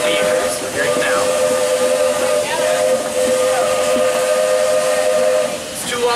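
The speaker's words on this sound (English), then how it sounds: "It is our crossing whistle. We're going to blow it every time we reach some sort of big crossing for vehicles." A Disney steam locomotive sounds its crossing whistle, a loud, close, sustained hiss-edged tone held for most of the stretch with a couple of short breaks between blasts.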